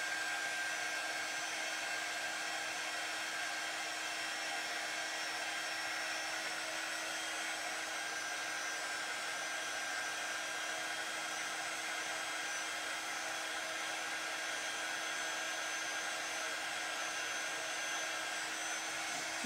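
Hair dryer blowing steadily on wet paint on a garden gnome, a constant even whir held without break from start to finish, fairly quiet and alone with no voices.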